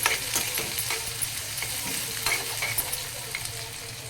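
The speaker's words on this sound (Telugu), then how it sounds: "ఉల్లిపాయ ముక్కలు కొంచెం వేగాలి." Onion pieces fry in hot oil in a kadai for methi dal, a steady bright sizzle broken by the faint scrape of stirring, close up with no talking.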